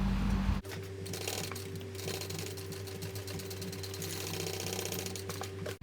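A sewing machine runs continuously at a steady hum while stitching a shoulder bag lining, loud and close, starting after a brief moment and cutting off at the end.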